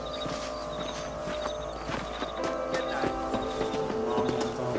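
In Red Dead Redemption, a horse's hooves clip-clop in a steady walking rhythm, set against a dense bed of game music and ambience.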